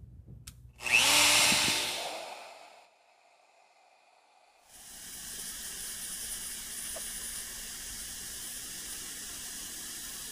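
An Origin handheld CNC router spindle whines up loudly and briefly while cutting a sign, goes quiet for a couple of seconds, then settles into a steady, softer hissing whir that runs on to the end.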